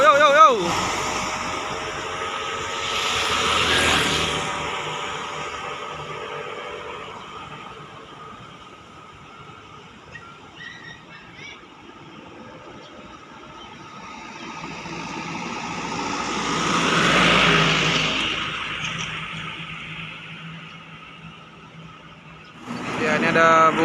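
A Putra Pelangi bus out of Medan rolls past on a road, its engine and tyre roar swelling up close around the middle, fading, then rising again with another passing vehicle near the end.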